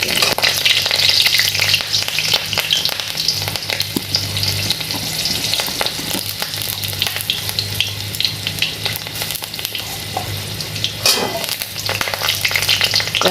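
Green chilies fry in hot oil during a village-style drumstick leaf (sajne pata) dish, giving a steady, close, loud sizzle with crackles and occasional stirring scrapes throughout, no voices.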